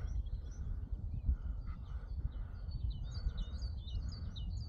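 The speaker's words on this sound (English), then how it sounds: "Lovely to hear the birds singing though on a morning." Faint, high birdsong twitters intermittently in the distance over a steady low rumble of wind and background noise.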